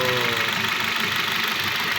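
Idling 2011 Hyundai H-1 engine with a knock: a loud, steady rapid rattling tick over a low rumbling drone, recorded close to the engine bay with no talk.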